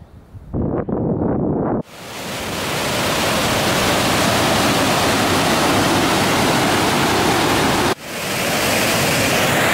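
Broad, steady rushing of a river beside the Tintern Abbey ruins, loud and continuous, with a short break and some wind buffeting near the start.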